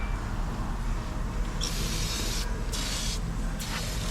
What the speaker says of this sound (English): I'm out of spray.